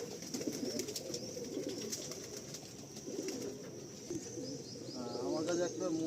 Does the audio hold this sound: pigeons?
yes